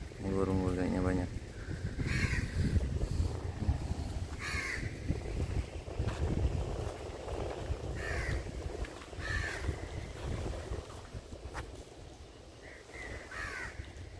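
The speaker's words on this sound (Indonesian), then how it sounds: "ini burung gagaknya banyak." Many crows caw in repeated rough bursts, some near and some farther off, over steady wind rumble outdoors, recorded on a Samsung A54 5G phone; a voice speaks briefly at the start.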